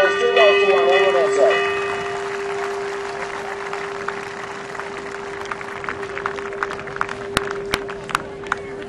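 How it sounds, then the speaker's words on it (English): Spectators applauding at the 2013 Cartier Queen's Cup polo final, a steady wash of clapping from an outdoor crowd that thins into scattered claps, with a tone and voices heard at the start. "Ladies and gentlemen, give them a round of applause."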